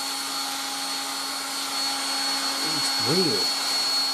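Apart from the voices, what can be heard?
1960s Dateline DLMD vintage hairdryer running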